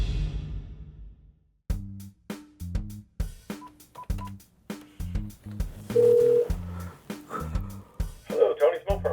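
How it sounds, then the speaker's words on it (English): Telephone being dialed to call a friend: a series of short button beeps in uneven rhythm, each tone clear and close, with faint room noise between presses and a brief murmur near the end. "it's time to phone my old buddy"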